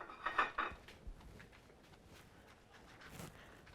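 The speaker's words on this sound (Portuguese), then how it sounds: "Eu vou fritar nessa outra panela" Cooking pans are handled before frying rib pieces, with a few clattering metal knocks and scrapes at the start, then a quiet stretch of faint kitchen rustling.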